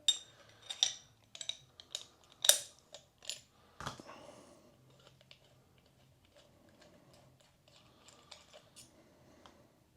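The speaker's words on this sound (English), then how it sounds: "Then your nozzle using a spanner." A spanner works the nozzle off an HVLP spray gun, giving a run of sharp metallic clicks and clinks close up, bunched in the first four seconds and thinning to faint scattered taps afterward.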